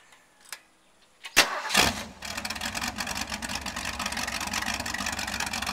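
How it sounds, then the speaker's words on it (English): A car engine fitted with open headers cranks and fires on a homemade test stand, with a short starter whir, a sharp catch and then a steady loud idle that carries on to the end. "We're going to start this thing up for you here so you can listen to it."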